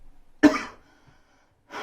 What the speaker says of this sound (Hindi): ये कोरोना वाली खांसी नहीं है बच्चों ये ठंडे पानी वाली खांसी है